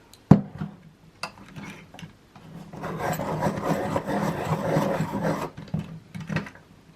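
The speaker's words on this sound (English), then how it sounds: "I do apologise for the sharpener, it's very loud." A pencil sharpener grinding a watercolour pencil, a loud close rasping whir lasting a few seconds, framed by scattered clicks and taps before and after.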